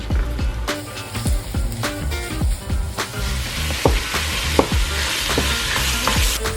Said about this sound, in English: Brown 600 grams of ground beef.